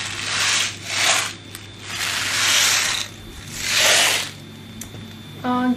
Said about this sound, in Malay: Aduh, perutnya berbunyi lagi.